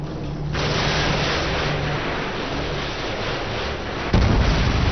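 AGM missile strikes in Modern Warfare 2 build into a sustained, loud roaring rumble, with a heavy blast hitting near the end, no talking over it.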